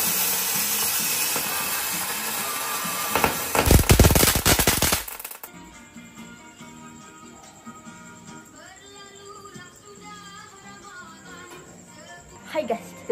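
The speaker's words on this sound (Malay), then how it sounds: "kita main mercun tadi guys" A rapid string of firecracker bangs for Hari Raya erupts into a loud crackling burst lasting a couple of seconds, then drops away to a quieter background with faint scattered sounds and a brief late flare.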